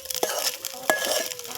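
Food being stirred in a pan after turmeric goes in, with soft scraping and light sizzling plus a couple of sharp utensil clinks against the pan.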